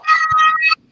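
A cat gives one drawn-out, loud meow close by, lasting most of a second and then stopping abruptly into near silence.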